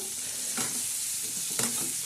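Steady hiss of garlic frying in hot oil as tempering for shev bhaji, with a couple of louder crackling bursts as it is stirred; no voices.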